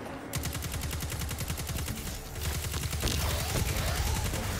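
Rapid gunfire in the video game Destiny 2, a dense stream of shots with no breaks, loud and close, during a Master Lost Sector fight, with a sharp whine rising near the end.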